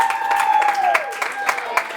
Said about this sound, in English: Granny's got some claps for you.